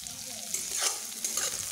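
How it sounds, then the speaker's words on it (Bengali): Bitter gourd slices frying in a pan with a little salt make a faint, steady sizzle with light stirring scrapes, close and quiet, without voices. "নুন দেবার পরে নুনগুলোকে মিশিয়ে করলাগুলোকে ভালো করে ভেজে নেব।"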